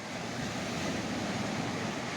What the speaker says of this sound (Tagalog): lalaki nga ng alon